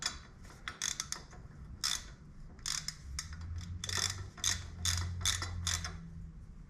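A ratchet wrench clicks in quick bursts while tightening exhaust bolts during a 2-into-1 exhaust install on a Shovelhead motorcycle, the sharp close ratcheting rattles separated by short pauses over a low background hum.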